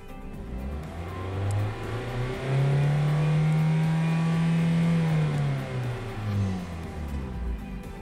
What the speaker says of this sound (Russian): Еще раз проверим работу двигателя.